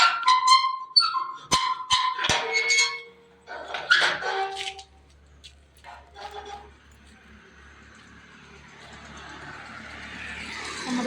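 Several sharp dog barks ring out in the first few seconds, fairly near, then fade into quieter outdoor background noise.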